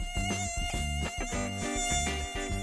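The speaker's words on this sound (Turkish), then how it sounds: "Bu vızıltı da ne?" A mosquito in an animated scene gives off a steady, loud buzz with a pulsing, rhythmic waver that stays constant throughout, close-sounding and without any talking.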